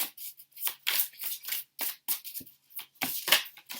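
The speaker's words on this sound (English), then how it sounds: "Shuffling for the tarot" Tarot cards are shuffled by hand in brisk, irregular riffles and slides, close and crisp, with no talking.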